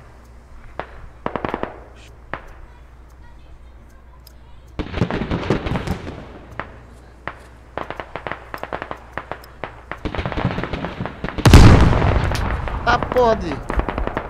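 Gunfire in a squad shooter video game: scattered sharp shots, single and in short bursts, then a heavier blast near the end, with a voice speaking briefly in between.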